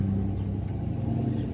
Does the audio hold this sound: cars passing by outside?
yes